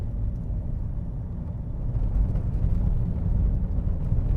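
Engine of a cheap used car under way, a steady low rumble that swells louder as it shifts into second gear, with no voices.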